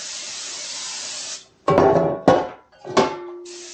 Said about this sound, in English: I'm going to spray my pans real good